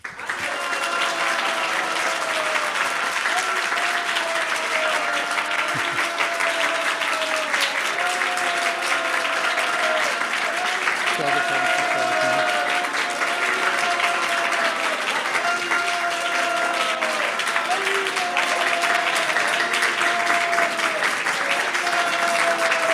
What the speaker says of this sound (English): then you just give a round of applause